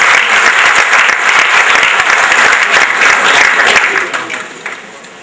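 An audience at a local political party meeting in Smederevska Palanka breaks into loud, dense applause that carries on steadily before fading out toward the end.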